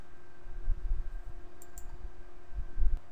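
Faint computer mouse clicks, a few soft isolated taps against quiet room hum, while working in AutoCAD menus.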